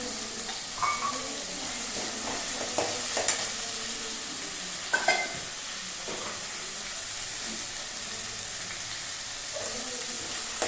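Chopped tomato and curry leaves sizzling in a hot pan as they are stirred, with a steady frying hiss and a few scraping stir sounds throughout.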